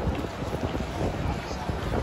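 Strong, steady wind buffets the microphone outdoors in Makkah as rain approaches, making a loud, continuous roaring rumble with no clear talk.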